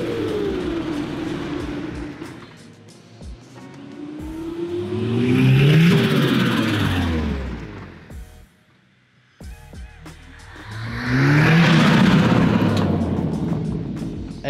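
Turbocharged car engine revving hard on boost, two loud rising surges separated by a brief drop to near silence, with harmonic whine climbing and falling each time.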